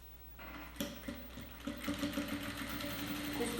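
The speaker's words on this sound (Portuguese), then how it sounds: "Costura de segurança é uma costura bem de borda, é uma costura somente para eu fixar o meu espelho no meu forro" A sewing machine runs a short edge seam on a shoulder bag lining. Quiet, close, rapid mechanical stitching starts after a brief pause and continues with a steady, slightly uneven rhythm.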